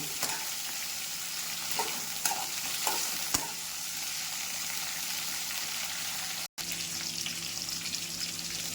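Eggplant frying in a little oil makes a steady, close crackling sizzle, with a few sharp clicks of a spoon stirring against the pan and one abrupt brief dropout.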